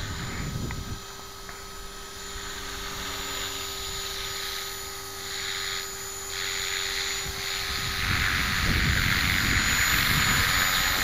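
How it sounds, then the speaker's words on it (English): An onboard recording of a 450-size flybarless radio-controlled helicopter (LH-450bb) in flight: a constant close, high whine of motor and rotor with steady tones, surging louder toward the end. "Yeah, I'm liking this helicopter a lot."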